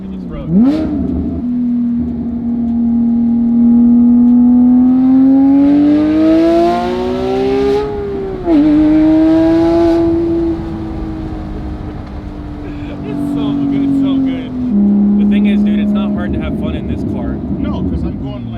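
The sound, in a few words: Audi R8 and Porsche 997.2 GT3 RS driving on a backroad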